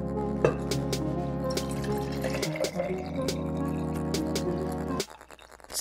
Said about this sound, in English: Now we're gonna add the water.